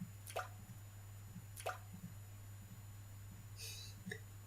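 Water dripping in the video game Sound of Drop, a few sparse separate drip plinks over a low steady hum, faint and irregularly spaced.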